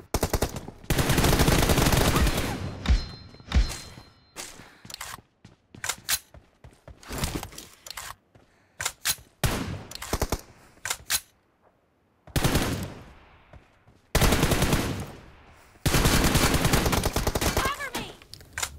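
Rapid bursts of automatic gunfire from a mobile shooting game played on phones, loud and close, firing in long sustained volleys broken by short single shots and brief pauses.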